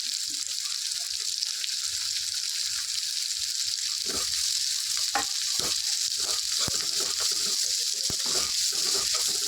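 Onions, grated ginger and green chillies frying lightly in oil, a steady close sizzle broken by frequent clicks and scrapes of stirring.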